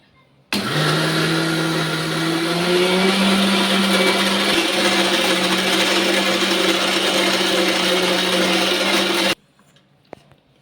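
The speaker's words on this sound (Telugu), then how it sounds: "మిక్సీ అయితే పట్టేసుకోవాలి" A mixer grinder blends rice with water in one loud, steady whir lasting about nine seconds, its motor pitch rising slightly early on, then cutting off abruptly into quiet with a small clunk afterward.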